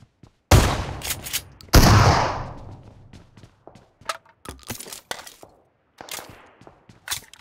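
Shotgun blasts in a video game: two loud, sharp booming shots close together, followed by scattered fainter pops and clicks of gunfire.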